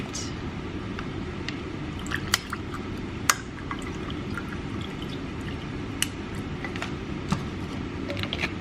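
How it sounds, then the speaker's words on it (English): Store-bought juice poured over ice in a glass, a steady quiet liquid pour with a few sharp clinks of ice scattered through, close and alone with no talk. "So I'm gonna pour it over some ice"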